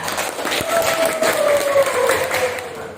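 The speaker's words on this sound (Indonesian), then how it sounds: "Tepuk tangan dulu untuk kelompok 3." A classroom of students claps for a group after its presentation, a brief burst of mixed applause with voices murmuring underneath and a faint tone running through.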